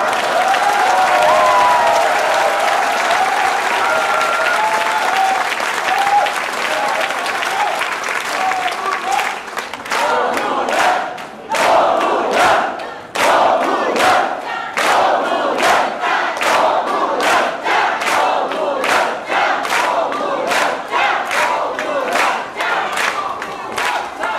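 A large crowd at a 2008 Nosamo general assembly rally in Korea chants and applauds loudly, first as a dense continuous roar, then in sharp rhythmic bursts of clapping and shouting with brief pauses between.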